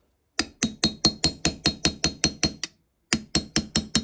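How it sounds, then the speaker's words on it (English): Repeated sharp metal-on-metal taps from a hammer driving a chisel against a stuck part on a 1973 Yamaha CT3 engine, about a dozen steady blows, a short pause, then five more, close and loud. "I didn't think I was getting that one out with the chisel method, but after the heat and continuous tapping, it finally broke free"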